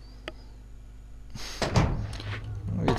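A door opens in the video game Resident Evil 2, heard as a sudden cluster of thuds and clattering knocks after a quiet stretch with a low steady hum, then continuing as a fuller mechanical rumble to the end.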